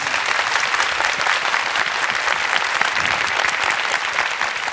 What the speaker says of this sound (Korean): 조현숙 멘토께 뜨거운 박수 부탁드리겠습니다